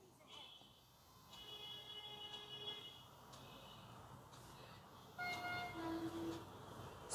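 A train moves through the battle royale video game BGMI, a continuous rumbling roll with tonal horn-like sounds, fairly faint, with speech over it.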